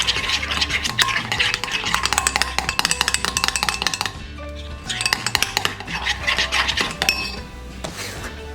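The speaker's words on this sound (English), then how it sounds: "Now we're going to give this a really good stir before we add in our crab meat." A spoon stirs a seasoned crab-cake mixture in a bowl, giving a steady run of close scraping and clinking strokes against the bowl with a brief pause partway, and no voices.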